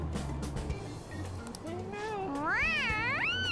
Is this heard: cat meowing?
yes